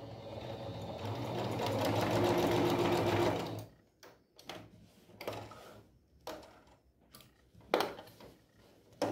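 A sewing machine stitches patchwork fabric in a steady loud burst for about three and a half seconds, then stops, followed by scattered clicks and light handling noises of fabric nearby.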